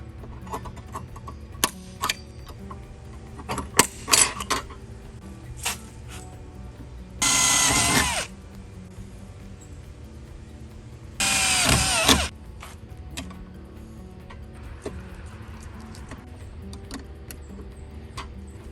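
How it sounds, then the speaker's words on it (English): Two short bursts of a power drill whir through a metal soft-top bracket, separated by quiet handling clicks and tool clatter. "Punch your marks and drill the hole."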